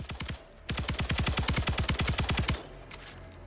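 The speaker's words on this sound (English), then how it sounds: "Alright, so I've unlocked the assault rifle." Sustained full-auto bursts from an assault rifle in a sci-fi shooter video game, a short burst followed by a longer rapid rattle of evenly spaced loud shots, then a faint trailing sound.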